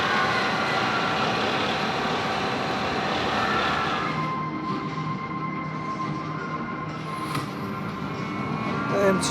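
The Hyperia roller coaster train, loaded with test dummies, rolls away on a continuous broadband rumble and roar that holds steady, fairly close, before easing slightly and ending on a brief clunk.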